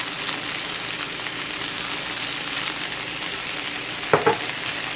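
Food is mixed while it fries in a pan, with a continuous close sizzle and a brief pair of spoon scrapes toward the end. No one speaks.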